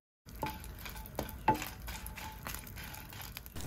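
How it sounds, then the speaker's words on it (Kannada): Four Byadgi chillies frying in a little oil, a soft steady sizzle with a few spoon-stirring taps and scrapes, fairly quiet and close, no talking. "ಮಸಾಲೆಗೆ 4 ಬ್ಯಾಡಗಿ ಮೆಣಸನ್ನು ಸ್ವಲ್ಪ ಎಣ್ಣೆ ಹಾಕಿ ಫ್ರೈ ಮಾಡ್ತಾ ಇದ್ದೇನೆ"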